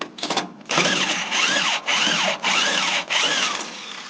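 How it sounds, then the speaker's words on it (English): Thread chaser being worked through a bolt hole on a square-body Suburban during shock and header work, making loud, rhythmic grinding scrapes in four or five even strokes with short pauses between them, close up and with no talking. "I need to run a little bit of a chaser"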